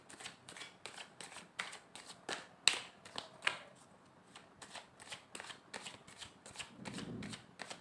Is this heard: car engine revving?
no